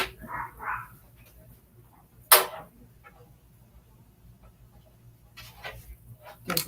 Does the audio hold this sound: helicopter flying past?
no